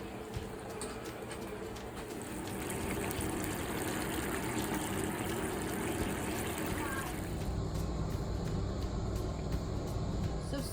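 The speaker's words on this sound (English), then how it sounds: "we're gonna set up our pot for the water for our shrimp." Steady water running into a cooking pot for spaghetti, a continuous rushing fill heard close and fairly loud throughout, with a shift in tone near the end as the pot fills.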